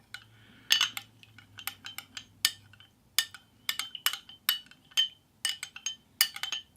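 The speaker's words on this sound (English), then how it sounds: "I'm going to stir it a little better." A metal utensil stirs honey into orange lingonberry mead, clinking repeatedly against the vessel in quick, uneven bursts, close and fairly loud, with no talking.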